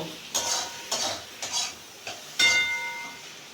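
Chopped tomatoes go into spices frying in oil with coriander powder in a pan, bringing a series of soft stirring scrapes and clinks over a steady, close sizzle.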